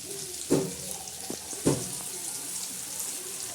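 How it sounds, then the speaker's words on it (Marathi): Oil bubbles and sizzles steadily in a pan as moong dal fritters fry, with a couple of sharp clinks from a utensil and no voices. "मस्त असे खळखळा तळत आहे"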